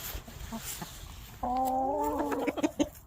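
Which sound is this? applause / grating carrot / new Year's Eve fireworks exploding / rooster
rooster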